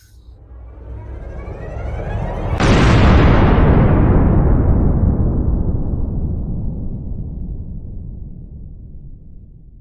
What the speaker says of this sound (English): So here comes the first explosion